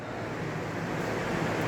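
Fan blowing air in a paint shop, a loud, steady broadband rush of moving air with no breaks or voices across the short stretch.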